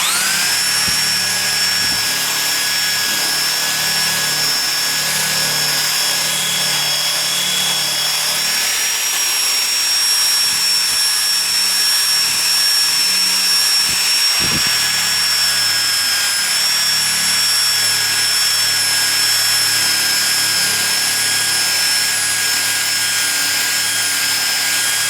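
A Black & Decker power tool whirs steadily with a Scotch-Brite ball attached, holding a loud, continuous high whine with a thin tonal edge for the full length. One brief bump breaks it partway through, and no one speaks.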